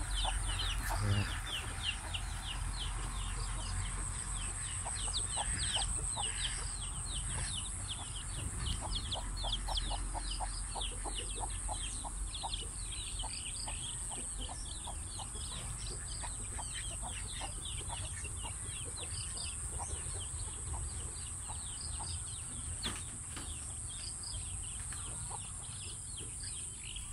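Chickens and chicks clucking and peeping continuously at a farmyard on a misty morning, with many overlapping calls close and at a distance over a steady outdoor background.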